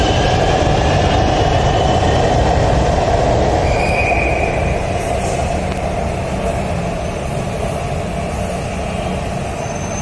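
An Orange Line Metro train in Lahore runs along with a loud, steady rumble and wheel noise that stays close and unbroken, with a brief high squeal partway through and a gradual slight fade.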